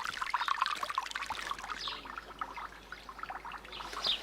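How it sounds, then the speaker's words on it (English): Water in a wildlife garden stream trickles and pours steadily, close and fairly quiet, with a faint bird chirp near the end and no voices. "Regular pruning is also needed along the stream to keep the water running freely."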